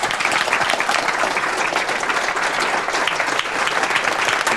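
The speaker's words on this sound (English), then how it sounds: "Please, a round of applause." Steady, dense applause from a large audience welcoming a speaker at a talk, clapping continuously at an even volume throughout.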